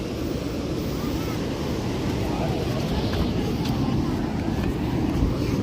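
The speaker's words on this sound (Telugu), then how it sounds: "This is వర్కాలా beach." Steady roar of surf rolling onto Varkala Beach, mixed with gusty wind buffeting the microphone, continuous and fairly loud throughout.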